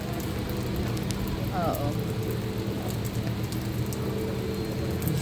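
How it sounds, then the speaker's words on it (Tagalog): Steady rain falls at a resort as a constant wash of patter and hiss, with a brief voice heard through it. "Malamig kasi, maulan."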